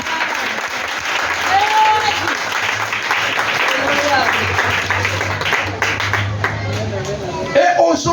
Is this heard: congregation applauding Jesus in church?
yes